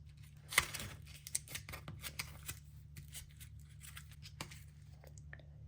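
Scissors snip at the edge of a handmade stamp in a quiet room, giving a few crisp cuts and soft papery rustles over a low steady hum, with no talking.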